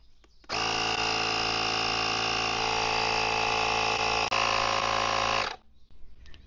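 A portable tyre inflator runs steadily for about five seconds while topping up a motorcycle tyre, a loud, dense, buzzing mechanical drone that starts and stops abruptly, heard close up with no talk.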